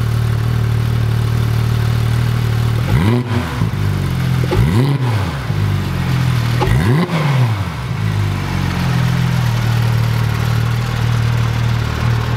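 The engine of a new sports car with the sports exhaust switched on idles with a deep rumble and rises sharply in three separate revs, loud and close, then settles back to idle with no voices.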